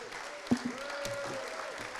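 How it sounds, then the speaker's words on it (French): Audience at a business association general assembly conference applauding a speaker, a soft, distant patter of clapping with one sharper clap up front and faint room noise. "Oh, que d'applaudissements, Jean-Luc!"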